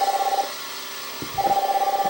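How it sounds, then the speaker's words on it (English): A phone ring plays through an Elegiant Bluetooth speaker: two bursts of a warbling electronic tone separated by a brief pause, close and clear, with a couple of faint handling bumps in between. "this is what's making the ringing sound."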